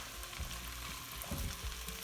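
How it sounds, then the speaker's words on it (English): Potatoes frying in butter with cumin in a pan for an Indian cottage pie sagaloo topping, a steady close sizzle and crackle with a few soft stirring scrapes and no voices. "I'm just going to fry that in the butter"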